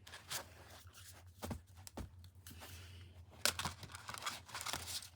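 Soft papery shuffling and riffling of a tarot card deck, irregular bursts of crisp rustling and snapping, close and quiet.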